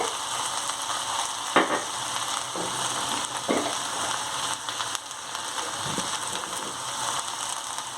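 Cumin seeds and turmeric sizzling in hot oil in a pan for brinjal palya, a steady loud frying hiss with a few faint crackles and utensil knocks, close by and with no talking.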